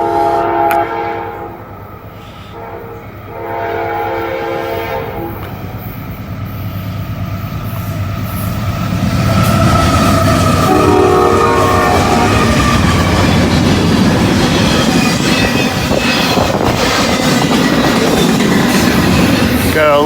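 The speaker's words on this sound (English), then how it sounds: "Got a late horn salute there." A fast Norfolk Southern intermodal freight train blasts its horn with a few long tones as it approaches, then roars past close by with loud, continuous rumbling and clattering wheels.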